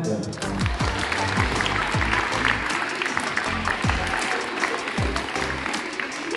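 Applause from the crowd at a mini volleyball tournament awards ceremony, sustained dense clapping with a few voices and whoops mixed in throughout.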